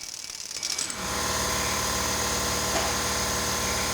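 An impact gun with a 36 mm socket hammering on a large wheel axle nut, starting after a short pause and then a loud, continuous rapid rattling burst that holds steady to the end.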